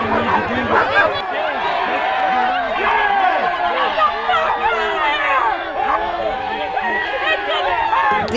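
A dog bleeding from its nose and mouth barks and whimpers in the middle of a street protest, its cries mixed into constant crowd chatter and shouting voices close by.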